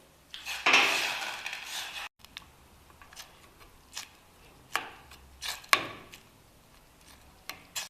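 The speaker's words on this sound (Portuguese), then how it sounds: "Agora eu vou amassar esse feijão." Cooked beans being mashed in a pot with a few ladles of broth, giving a loud scraping clatter at the start, then a series of separate wet knocks and taps of the utensil against the metal pot.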